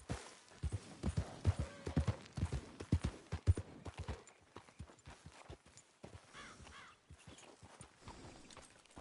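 Horse hooves clip-clop in a quick, uneven rhythm on a hard surface in Red Dead Redemption 2, close and distinct, then thin out into lighter, scattered steps.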